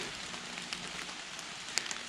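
Rain patters on a surface during a turkey hunt in the woods, a steady soft hiss with scattered sharper drops landing close by, no voices.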